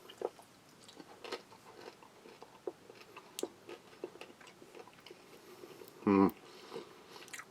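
Roasted lentils from a Latvian army combat ration being chewed, with faint scattered crunches and one brief louder crackle near the end, close to the mouth.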